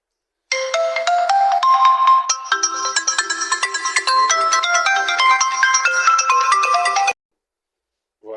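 A phone's ringtone for an incoming call plays loudly and close, a bright, quick melodic jingle repeating for several seconds before cutting off abruptly.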